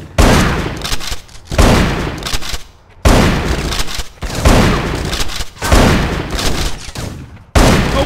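Loud gunfire in the video game Bad Boys: Miami Takedown comes in several heavy bursts of rapid shots, separated by short pauses.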